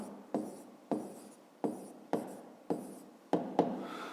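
Pen strokes on paper while writing out a fifth-grade maths exercise, about seven short scratchy marks in quick succession, faint and close, with no voices.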